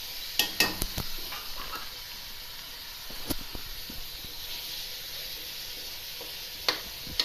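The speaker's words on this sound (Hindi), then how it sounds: "ये देखो, अब ये हो गया हल्का सा फ्राई" Minced keema lightly frying in a pan for aloo keema matar, a continuous soft sizzle and hiss with scattered spatula scrapes and clinks against the pan, close and without talk.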